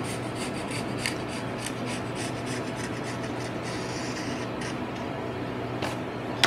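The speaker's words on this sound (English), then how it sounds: "So I'll just go ahead and mark this pencil line all the way around on the top edge of the side." A pencil rasps along the top edge of a tenor guitar's wooden side, a continuous close scratching and rubbing stroke that carries on steadily with a few small knocks, no talk.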